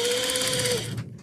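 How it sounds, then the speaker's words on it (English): A sewing machine stitching a pillowcase seam runs in a fast, steady whirring hum with a tonal whine, close and loud, then stops abruptly near the end. "sewing the bottom close as well"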